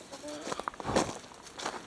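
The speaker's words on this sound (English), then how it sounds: "I've missed the chickens." Chickens cluck nearby with short, uneven clucks scattered through the stretch, mixed with rustling and footsteps, while a person talks quietly alongside them.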